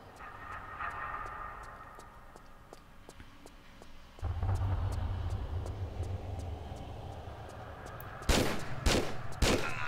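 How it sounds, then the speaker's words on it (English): Revolver shots ring out in a Tomb Raider custom level: two or three loud, sharp cracks near the end, preceded by faint, regularly spaced ticks over a low rumbling ambience. "And next I'm gonna swap back to the revolver."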